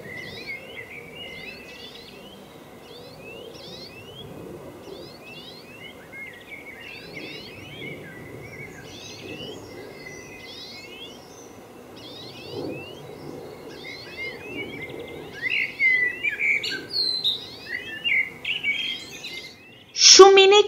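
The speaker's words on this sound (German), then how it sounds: "Welche Farbe hat dieser kleine Vogel?" Small bird singing outdoors, a string of short high chirps and trills repeating at a moderate pace over steady low background noise, growing louder and busier toward the end.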